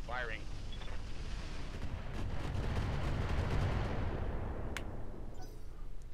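Weapons fire in the BattleTech RogueTech video game as a dense, rumbling barrage of booms and blasts with crackling impacts, loud and continuous, with a sharp high click near the end.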